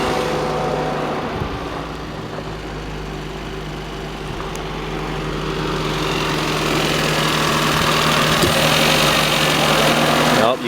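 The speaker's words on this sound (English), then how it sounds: "you can hear the AC pump cycling. The compressor and the fans for it." Under the hood of a Toyota Paseo, the AC compressor and its cooling fans cycle beside an idling engine, a steady whirring hum with tonal whine that swells louder toward the end.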